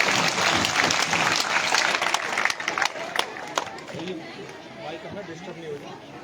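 A crowd at a village annual function applauds a visiting MLA, strong clapping mixed with chatter for a few seconds, then fading into a murmuring hubbub.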